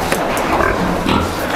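Two young pigs on a farm grunt and snuffle close by, a loud, continuous jumble of low rooting noises with a few sharper squeaks.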